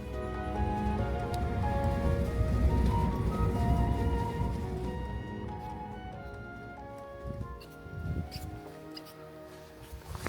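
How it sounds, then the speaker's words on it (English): Rain falling in a mountain cave village of the Tujia people, steady soft patter with scattered drips close by, fading somewhat toward the end, with faint talking underneath. "Today is a bit rainy and cloudy."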